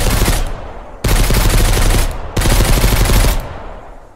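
Sustained machine gun fire in Mist Survival rattles in three long, dense, very loud bursts separated by short breaks, close and dominant with nothing else audible.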